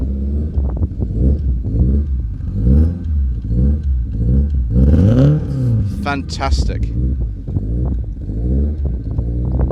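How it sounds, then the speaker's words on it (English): A 1971 Alfa Romeo GT Junior fitted with a 2000 GTV engine and no catalyst, starting and revving repeatedly in close, loud surges, with one brief spoken exclamation near the end. "start her up and we're going to hear the 2000 engine"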